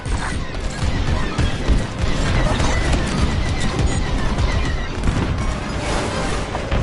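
Starfighter weapons fire in Star Wars: Squadrons: a dense, continuous barrage of rapid blasts and crashing impacts, loud and unbroken for several seconds, with no clear talk.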